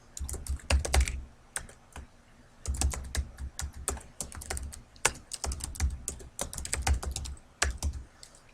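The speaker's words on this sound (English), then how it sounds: "what I'm doing to move from cell to cell is just hitting the tab key" Typing on a computer keyboard while entering data into a document table, with the tab key pressed to jump between cells. Close, crisp clusters of keystrokes come in uneven bursts separated by short pauses, and no one speaks.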